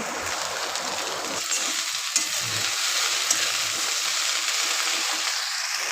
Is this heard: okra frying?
yes